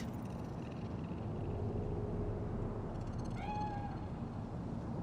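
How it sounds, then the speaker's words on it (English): A cat in the video game Cyberpunk 2077, in Night City, gives one clear rising-and-falling meow midway through, set against a steady low ambient hum of the game world. "Fine-looking feline. Thought they'd all disappeared from the city."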